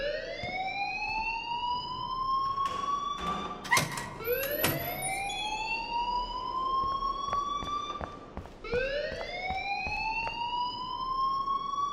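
A rising, repeating electronic alarm in the video game Life is Strange, each tone sweeping upward and restarting in a steady cycle, loud and continuous with sharp clicks and knocks mixed in.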